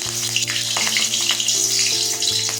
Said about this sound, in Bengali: তেল গরম হয়ে গেছে কাঁচা লঙ্কা দিয়ে দিলাম